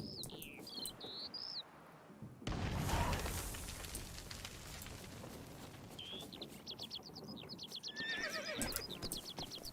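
A horse in The Witcher 3 whinnies and neighs loudly in bursts over clopping hooves, with birds chirping and tweeting in the background before and after.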